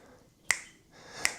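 Two crisp finger snaps, close and fairly quiet, spaced under a second apart to mark a steady musical pulse with nothing else around them.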